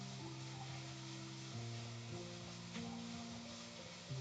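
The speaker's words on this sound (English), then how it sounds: "hearing the sizzle is an important part of the cooking viewing" A surf and turf stir fry of lobster and meat sizzles steadily in a hot pan, a constant close-up hiss with no talking and a faint tonal hum running underneath.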